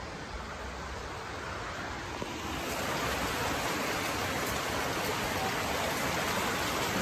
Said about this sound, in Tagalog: Tingnan nyo kung gaano kalakas yung ulan